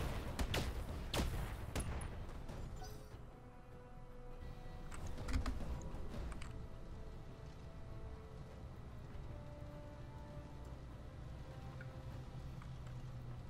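Mech weapons firing in the Roguetech battle game, heard as a burst of sharp blasts and impacts in the opening seconds, then a sustained mechanical rumble with scattered thuds, fairly loud throughout.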